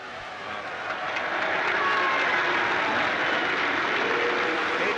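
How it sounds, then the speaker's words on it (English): A large political crowd booing a speaker at a Walthamstow election meeting, a dense, sustained roar of jeering voices that rises and holds loud throughout. "Then the booing starts."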